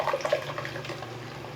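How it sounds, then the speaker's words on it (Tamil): Ground masala paste thinned with water is poured into a pan for a rock fish curry, making a brief soft liquid splash and trickle that fades quickly. "அதில் கொஞ்சமாக தண்ணி சேர்த்து இப்போ உள்ளே ஊற்றிடலாம்"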